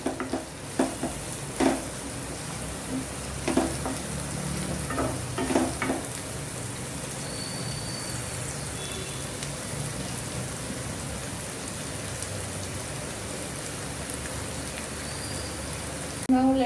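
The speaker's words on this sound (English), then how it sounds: "Let the onions become golden brown in color." Onions frying in a pan while they turn golden brown: a steady, close hiss of sizzling oil that runs the whole way, with a few faint stirring knocks early on and no talk.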